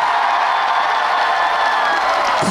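A large outdoor crowd at a concert during the Nonsan strawberry festival gives loud, sustained applause mixed with cheering and shouts. The sound is dense and close throughout, with no break.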